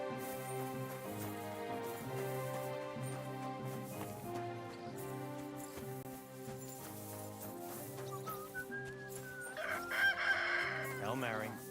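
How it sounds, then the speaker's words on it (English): Chickens cluck and a rooster crows in a medieval village in Kingdom Come: Deliverance 2, over steady background music, with a louder burst of crowing near the end. "Chicken!"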